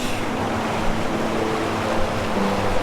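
A clean river flows past a cedar wood near a bridge at a riverside camp in Morocco, giving a steady, broadband rush of water that stays close and even throughout, with no voices.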